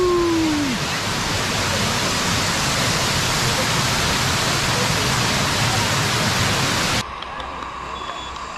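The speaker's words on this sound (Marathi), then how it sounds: "आपण भाजे वॉटरफॉल मध्ये आहोत" Bhaje waterfall near Malavali, Lonavala, roars as a loud, dense, continuous rush of falling water close by, cutting off abruptly near the end and leaving only faint background.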